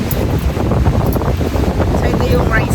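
Strong wind at the seaside in La Union buffets the microphone in loud, continuous rumbling gusts, with faint surf and muffled voices underneath.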